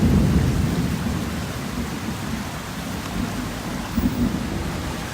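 Thunder from a storm rolls as a low, heavy rumble after a lightning strike, with steady rain hissing on surfaces throughout; no talking.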